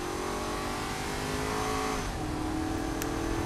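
A sports car in Saints Row: The Third revs hard, its engine droning steadily and climbing in pitch, with a brief dip and shift before rising again, loud and close with no talk.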